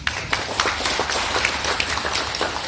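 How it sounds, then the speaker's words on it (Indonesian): An audience at a union officials' installation ceremony applauds for the head of the agency, a dense and steady burst of many hands clapping at once, fairly close and loud throughout. "Tepuk tangan untuk Pak Kadis."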